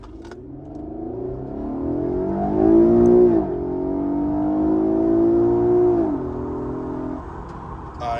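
Infiniti Q50 accelerating in morning traffic, engine note climbing steadily through the gears with a brief shift dip, heard from inside the car at moderate loudness with no talk.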